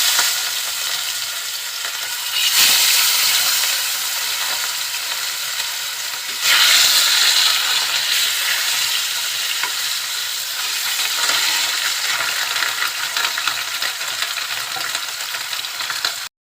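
Pieces of rohu fish, washed and rubbed with salt and turmeric, frying in hot oil: a loud, steady close-up sizzle with two sharper bursts as pieces hit the pan, no voices.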